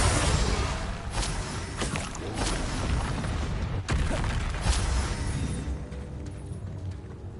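Spell blasts from Confringo and Bombarda in Hogwarts Legacy, a dense run of booming magical explosions with sharp bursts around the four and five second marks, loud and continuous throughout.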